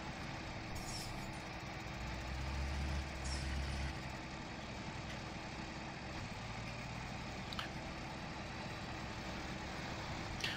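Steady low engine drone of a truck being driven in Farming Simulator 2013, a continuous idling-to-cruising rumble with a few faint clicks and hisses, heard alone without talk.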